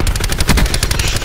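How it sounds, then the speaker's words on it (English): Loud, rapid gunfire in the video game Black Ops 4 as players shoot at bodies: fast, evenly spaced bursts of shots crackling in quick succession, close and dominant, with no talk. "Oh, they're shooting bodies."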